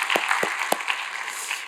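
Church congregation applauding during a Thanksgiving service, a steady wash of many hands clapping with a few sharper claps standing out, moderately loud and continuous with no talking.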